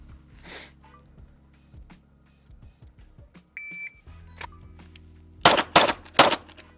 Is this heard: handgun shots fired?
yes